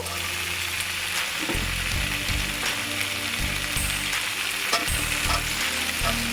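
Cut vegetable stalks tossed into a pan of lightly fried pumpkin and eggplant, frying with a loud continuous sizzle while a utensil scrapes and stirs in repeated rhythmic strokes; nobody speaks.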